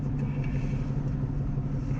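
A car driving, recorded by a GoPro 8 or GoPro Session 5 action camera, gives a steady, loud low road rumble with constant engine and tyre noise throughout.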